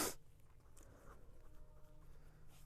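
Pen writing on paper during a Hindi-language maths lesson on paired linear equations in two variables, a soft continuous scratching close by with no talking over it.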